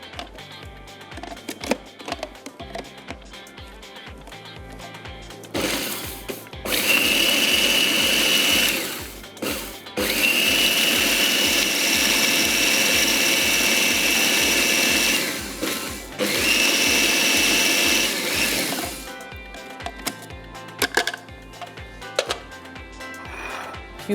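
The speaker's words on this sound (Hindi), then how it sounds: "इसको मैं पीस लेती हूँ।" An electric grinder pulverizes chicken for cutlets, roaring loudly in long, steady bursts with short breaks between them and quieter kitchen clatter before and after.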